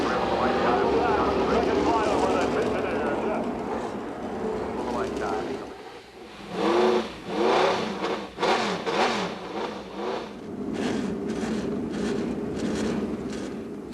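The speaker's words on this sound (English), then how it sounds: "they have fired the engines" Race car engines of 23 IndyCar entries firing up together at Charlotte Motor Speedway in 1997, a loud, dense roar with rising revs and bursts of throttle blips, heard under continuous crowd and announcer chatter.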